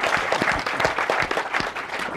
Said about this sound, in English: Let's have a round of applause for all the panelists.